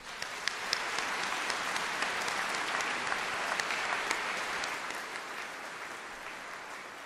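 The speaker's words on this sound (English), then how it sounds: "A round of applause." Sustained applause from a concert audience at a children's choir spring concert, a steady dense patter of clapping filling the room for several seconds with no talking over it.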